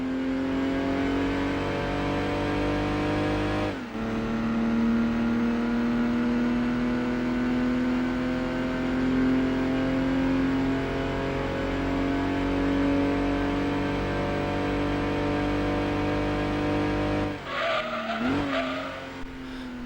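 A race car in Gran Turismo 2 accelerates flat out toward a 1,000 meter finish line, its engine a loud sustained whine that climbs steadily with a brief gear-change dip, then tires squeal and skid near the end.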